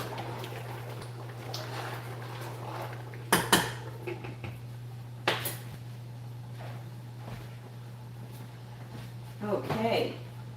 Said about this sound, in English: Let me just stir this pot.